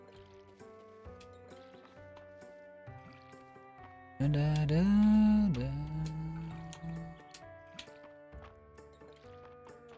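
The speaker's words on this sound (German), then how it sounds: "So, einmal alles gewässert." Watering crops with a watering can in the farming video game Fields of Mistria, a single pouring, splashing liquid sound lasting about a second over cheerful game music, with a voice humming along.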